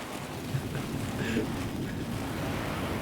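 Steady rain in the Sons of the Forest survival game, a dense continuous hiss of falling drops with faint wind, with brief voices over it.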